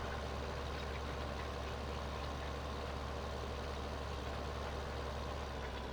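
Tractor engine running in the video game Farming Simulator 2015, a steady, dense low rumble that stays constant and fairly loud throughout with no talk over it.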